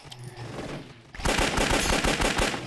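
Rapid bursts of automatic gunfire from a gun in the indie video game Shambles, loud and close, a quick rattling string of shots after a quieter ambient stretch.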